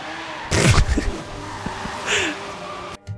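A car in the racing game Forza Horizon 3 accelerates hard out of a corner with a sudden loud surge, followed by engine drone and a brief tire squeal.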